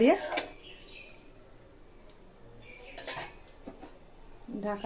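A lid clanks down onto a cooking pot of mustard hilsa curry after water is added, a short metallic clatter at the start followed by quieter kitchen rattles and a faint sizzle.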